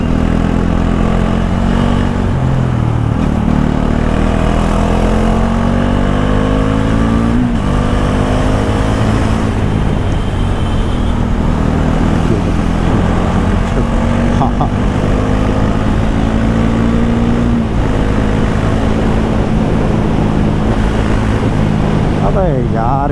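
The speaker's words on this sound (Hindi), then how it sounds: "ट्रैफिक." Vehicles pass along a mountain road near Panikot Lake, with trucks among them, heard as a steady engine drone. Engine pitch rises and falls as they go by, and it runs close and loud throughout.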